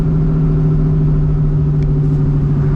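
A 1997 Mustang Cobra engine at wide open throttle gives a loud, steady, low droning roar heard from inside the car, with no audible voices.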